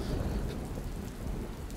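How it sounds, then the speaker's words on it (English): A storm cloud pours steady rain with low rumbling thunder, a dense continuous wash of sound at close range. "Oh, there's a storm cloud over your head."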